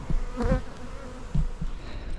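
Honey bees buzz around hives in a bee yard on a hot summer day, a close droning hum with louder passes as individual bees fly near.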